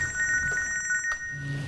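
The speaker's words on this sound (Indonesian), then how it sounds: "sebentar saya izin angkat telepon dulu ya" A telephone rings with a rapid electronic trill, steady and fairly loud, in an office setting during an Indonesian drama scene, with no talk over it.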